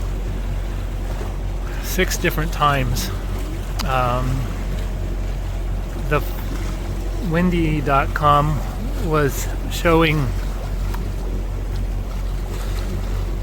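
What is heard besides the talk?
sailboat motoring under engine power at low RPM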